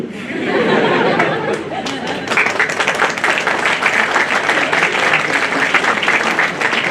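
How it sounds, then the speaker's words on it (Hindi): Seminar audience breaking into applause, a dense burst of many hands clapping that swells and continues steadily, mixed with murmured chatter in the room. "फिर तालियां जो बजी"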